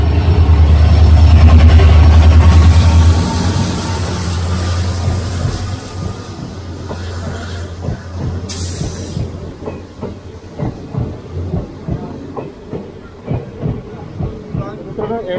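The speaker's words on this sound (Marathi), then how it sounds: "या ट्रेनच्या पासिंगसाठी गाडी थांबली होती" An Ernakulam-bound train on the Konkan Railway rolls past a halted Mandovi Express, a loud steady rumble at first that gives way to a rhythmic clickety-clack of wheels over rail joints as the cars pass close by.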